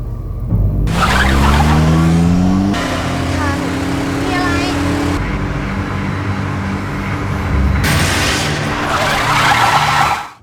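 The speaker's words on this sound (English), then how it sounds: "visible only to Tun, prompting him to step on the gas and drive faster" Loud car engine racing and climbing through gear shifts, with tires skidding and squealing during a frantic high-speed drive in a horror film, close and continuous under a dramatic score.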